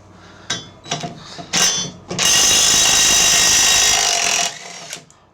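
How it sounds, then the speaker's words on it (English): A small impact gun removes a nut on a John Deere LA125 mower. A few short clattering bursts lead into a loud, sustained hammering run of about two seconds, then it stops. "let's see if this little gun will take that off"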